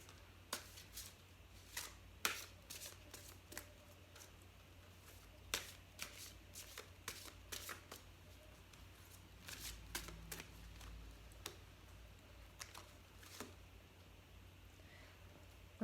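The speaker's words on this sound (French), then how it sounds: "On va tirer des cartes de l'oracle." Oracle cards being shuffled by hand, a series of quiet crisp riffling and slapping bursts at irregular intervals, close and soft, with a faint low hum underneath and no talking.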